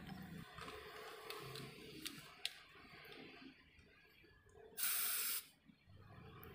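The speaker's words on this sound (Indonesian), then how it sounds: "Sekarang coba kita semprotkan terlebih dahulu ya pada bagian pipa serta bagian kaca" An anti-leak waterproofing spray can sprays onto a pipe, giving a loud, steady hiss burst of about half a second amid quieter background noise and clicks.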